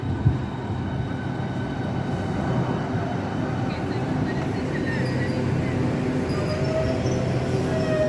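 A 12-car train pulls into Stratford International station, a steady low rumble that builds and holds throughout, with a propeller plane passing overhead in the background.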